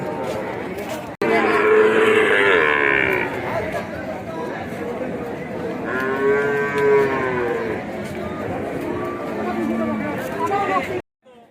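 A cow being led outside moos twice, long low calls, close and loud, with people chattering around it.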